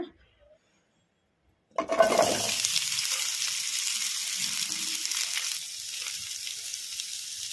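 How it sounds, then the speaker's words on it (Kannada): Chopped onions drop into a kadai of hot oil after a moment of silence, bursting into a loud, close sizzle that settles into a steady hiss and eases slightly near the end. "ಎಣ್ಣೆ ಕೂಡ ಬಿಸಿಯಾಗಿದೆ. ಈಗ ಇದಕ್ಕೆ ನಾವು ಕಟ್ ಮಾಡಿ ಇಟ್ಕೊಂಡಿದ್ವಲ್ಲ ಈರುಳ್ಳಿ, ಈಗ ಇದನ್ನು ಹಾಕೋಣ"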